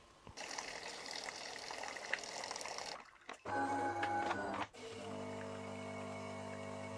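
A DeLonghi Magnifica S bean-to-cup coffee machine runs a rinse cycle after cleaning and degreasing. A loud pump whir and trickling water give way to a steadier humming flow, heard close with no talk.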